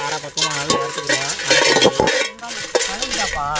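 Chilies roasting in a pan for a traditional snail dish, with steady clinking and scraping of a utensil against metal, light sizzling and a voice talking over it.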